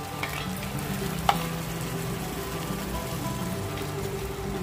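Crushed boiled tomatoes stirred into a frying pan with onions, a steady close sizzle and crackle with a single sharp clink of the spoon early on.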